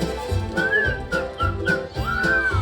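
A person whistles a bright, wavering tune in short phrases over a steady musical backing, with the melody rising and falling in a playful rhythm.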